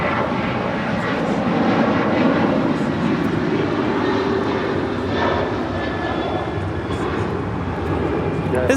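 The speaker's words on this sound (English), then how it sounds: "This is United Airlines 560 departing to Austin on a 737-900 ER." A United Airlines Boeing 737-900ER departs Los Angeles International Airport, its engines giving a steady, loud roar that fills the whole stretch, with voices talking faintly underneath.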